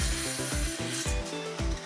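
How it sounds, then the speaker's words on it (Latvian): A ribbed saw cuts through a Fibo-Trespo bathroom wall panel from the front face, steady rhythmic back-and-forth strokes, about five rasping pulls, close and loud with no talk. "Piezāģējot paneļus, izmantojiet ribzāģi un zāģējiet no paneļa priekšpuses."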